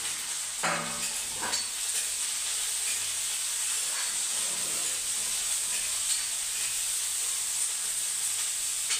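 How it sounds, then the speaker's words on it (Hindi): Green chillies and onion fry in hot oil with a steady, moderate sizzle and hiss, punctuated by a few light clicks and scrapes from the pan, with no talking. "इसके बाद मैं ये हरी मिर्ची को डाल दूंगी। साथ ही मैं प्याज को ऐड कर दूंगी।"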